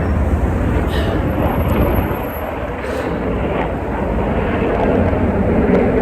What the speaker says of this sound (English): It's always nice when the police helicopters are out here.